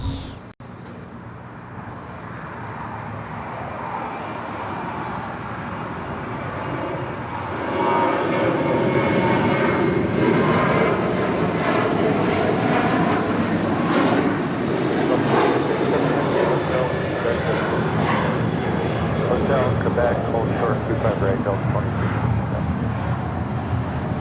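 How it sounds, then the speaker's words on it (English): An Alaska Boeing 737-800 takes off at LAX, its jet engines building from a rumble to a loud, sustained roar that holds steady as the aircraft powers down the runway. "This is Alaska 1315 taking off to Portland on a 737-800."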